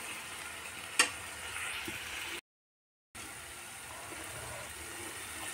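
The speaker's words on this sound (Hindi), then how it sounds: "और टमाटर लहसुन को भी अच्छे से फ्राई होने दूंगी जब तक तेल बाहर नहीं आती मसाला के, तब तक फ्राई करूंगी।" Tomato and garlic masala frying in oil as the gravy base for an eggplant curry gives a steady, even sizzle with one sharp click near the start and a brief dropout midway.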